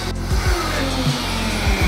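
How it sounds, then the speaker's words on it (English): A blender whirs loudly and close while blending homemade McReebs sauce, a steady motor drone whose pitch dips and rises several times as the contents churn. "All right, let's blend this up."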